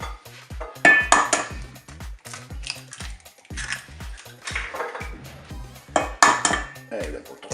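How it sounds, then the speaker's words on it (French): Eggs cracked against a bowl rim for an egg and coconut milk recipe, several sharp taps and clinks spaced apart over quiet kitchen background. "on va casser les œufs"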